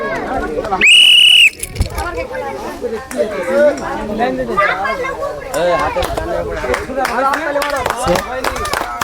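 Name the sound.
whistle blown to start a game round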